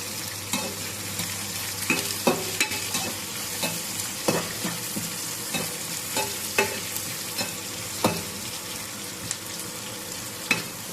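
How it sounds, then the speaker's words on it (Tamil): Onions sautéing in a pan for a goat head curry, a steady soft sizzle broken by regular scraping stir strokes roughly every second, close and fairly quiet with no talking. "வெங்காயம் நல்லா வதங்கி வந்துட்டு"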